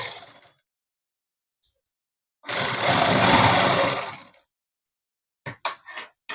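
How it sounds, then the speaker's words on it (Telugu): A sewing machine runs in one steady burst of about two seconds, stitching net cloth for a dress, loud and close, framed by silence and a few short clicks and handling noises. "ఇక్కడ అసలైన క్లాత్ మీద మాత్రం కుట్టు పడేటట్టు కుట్టు వేసేసుకోవాలి"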